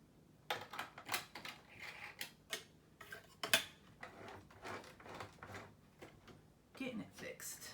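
Small clicks, taps and fiddly mechanical rattles come up close while a jammed bottom bobbin on a sewing machine is worked free, irregular and fairly quiet.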